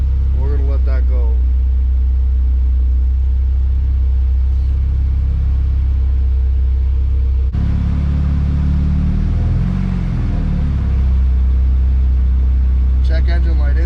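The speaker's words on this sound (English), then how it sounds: "But it's on, it's idling." A car engine idles steadily after being restarted, a continuous low rumble running through the whole stretch with a slight rise midway, while a voice speaks briefly near the start and end.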